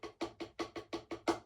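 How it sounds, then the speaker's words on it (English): Drum double stroke roll, eight quick evenly spaced stick hits on a drum in a fast steady rhythm, close and fairly faint, with no voices. "They birth the double stroke roll, which sounds like this."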